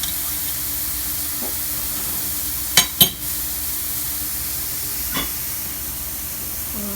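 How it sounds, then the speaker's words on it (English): Butter melts down the side of a hot frying pan with a steady, soft sizzling hiss, broken by a couple of quick clatters near the middle. "Let that melt down the side of the pan."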